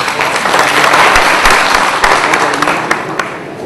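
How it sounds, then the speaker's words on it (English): Loud, dense audience applause at a talk, steady close clapping from a large crowd throughout with no voices. "Round of applause on this."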